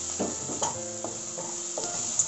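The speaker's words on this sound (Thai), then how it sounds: "เราก็ใส่เติมเข้าไปเลยผัดกับพริกแกงนะ" Bird's eye chilies stir-fried with curry paste in a pan, a steady soft sizzle broken by several scraping stirs of a spatula, close and fairly quiet, with no talking.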